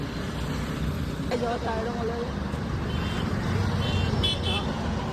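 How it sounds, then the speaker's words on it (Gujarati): Heavy road traffic rumbles steadily on a busy street in Ahmedabad, with a continuous low engine drone and faint horn toots in the background while people talk nearby. "અત્યારે બહુ જ ટ્રાફિક છે બધે"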